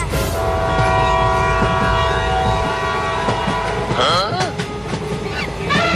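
A train passes loudly and close, with a sustained rumble and clatter of wagons and a horn sounding over it, continuous throughout.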